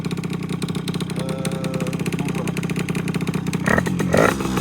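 A small two-stroke engine on an MBK 51 hybrid moped runs up close with a rattling, buzzing drone, then revs up harder near the end.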